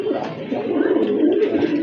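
Pigeons coo in a steady, low murmuring chorus that is close and continuous, with no talk over it.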